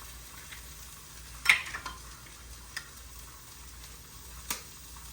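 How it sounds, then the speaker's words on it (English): Eggs frying in a pan alongside stir-fry vegetables for fried rice give a faint, steady sizzle, broken by a few sharp taps and clicks. "So I just take 2 or 3 eggs and you just break them."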